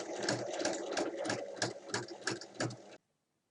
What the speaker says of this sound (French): refermer avec une surpiqûre qu'on va faire tout le tour à 1 mm du bord